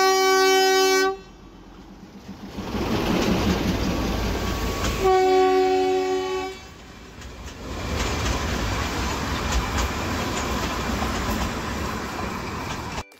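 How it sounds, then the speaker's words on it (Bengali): Darjeeling toy train arriving: two loud, sustained horn blasts, one at the start and one midway, separated and followed by a heavy rolling rumble of the moving train, close by. "ওই দেখুন একটা টয় ট্রেন চলে এসেছে"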